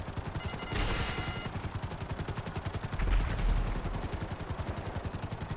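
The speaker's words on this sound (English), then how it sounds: "They're shooting at me when I avoid getting shot." Rapid enemy gunfire in GTA Online's Cayo Perico Heist, a continuous fast rhythmic rattle of shots with helicopter rotor drone underneath, loud and steady throughout.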